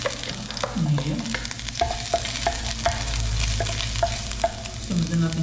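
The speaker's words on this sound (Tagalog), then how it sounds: "gisa natin si luya" Ginger sautés in hot oil previously used to fry carrots and potatoes, a soft steady sizzle with repeated clinks and scrapes of a spatula against the pan, plus brief higher metallic rings.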